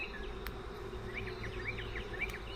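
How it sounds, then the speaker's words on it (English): Honeybees buzzing around an open beehive during an inspection, a soft steady hum with brief passing buzzes of individual bees close by, over a low background drone. "There's a lot of bees on this thing."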